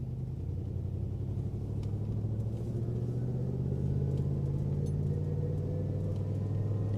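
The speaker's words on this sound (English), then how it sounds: "It just revs insanely high." A Cadillac Escalade stuck in first gear drones at high revs, a steady loud rumbling engine note that climbs slightly and holds without shifting.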